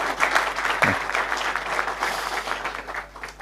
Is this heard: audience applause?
yes